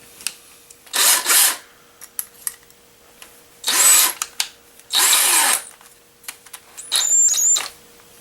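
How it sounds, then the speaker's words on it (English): Power drill with a dull bit runs in four short bursts, each a second or less, separated by quiet gaps with small clicks and handling noises close by. "we're going to go ahead and drill with it first, and then sharpen it and try it again"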